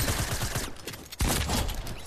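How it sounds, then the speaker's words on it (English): Rapid bursts of video game gunfire crackle close and loud through the whole moment, a brief dip in the middle before the shooting surges back dense and sustained. "Shooting here, y'all."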